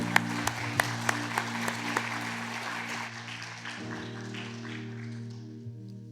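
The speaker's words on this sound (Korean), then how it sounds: "잘 들어보시고 나올 때 들어갈 때 큰 박수 부탁합니다." Applause from the congregation at a Sunday church service, a burst of sharp distinct claps fading into steady background clapping, with sustained organ or keyboard chords underneath.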